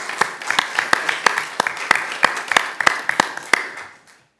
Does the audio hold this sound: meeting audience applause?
yes